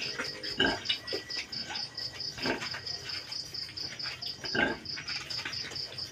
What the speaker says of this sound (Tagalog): Magpapadede na po ulit tayo ng biik.